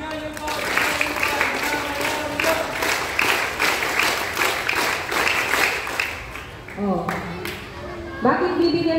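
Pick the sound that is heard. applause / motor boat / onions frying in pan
applause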